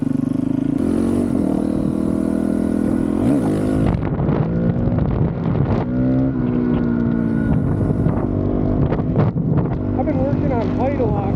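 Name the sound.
Honda CRF450RL motorcycle riding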